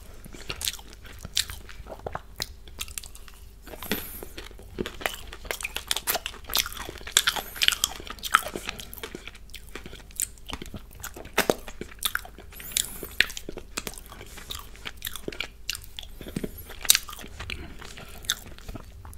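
Close, intimate chewing and biting of a store-bought chocolate birthday cupcake, soft wet mouth sounds with frequent crisp clicks and squishes in an irregular rhythm throughout, no talking.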